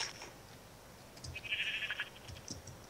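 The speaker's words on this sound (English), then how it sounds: "There's too many sheep." Sheep bleating in the video game Minecraft, a single short bleat in the middle of the clip over a quiet background, with faint game sounds around it.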